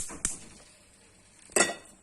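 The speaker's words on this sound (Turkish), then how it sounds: "Tencereyi ocağa ekliyorum." A cooking pot is set down on a kitchen stove burner, giving two short, close metallic clanks about a second apart with quiet room tone between.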